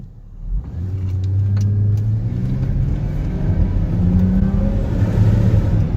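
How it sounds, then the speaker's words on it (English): A Volvo XC90 engine runs with a misfire, a loud close low rumble with uneven, slightly pulsing revs that swell and hold for several seconds. "it definitely has a little bit of misfire"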